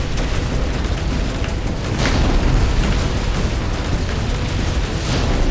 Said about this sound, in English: Keep on blasting. Unleash the bombs.